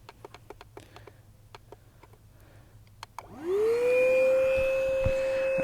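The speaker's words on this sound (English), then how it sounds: "we set that on the electric pump and we let it go." Quiet clicks and taps give way to an electric pump switching on and rising into a steady loud whine with a strong tonal hum as it inflates an inflatable dinghy floor toward 5 psi.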